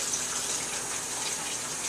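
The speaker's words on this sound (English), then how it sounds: "Put the pot inside the sink, put some cold water on the outside" Cold tap water runs steadily from a faucet onto the outside of a cooking pot sitting in a kitchen sink, making a continuous close splashing gush.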